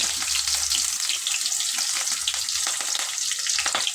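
Two chopped onions hit hot oil in a pan for a stir-fried soya chunk dish, giving a steady, loud, close crackling sizzle that runs continuously with no voices.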